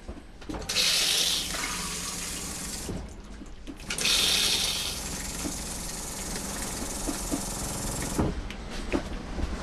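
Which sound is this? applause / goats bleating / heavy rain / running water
running water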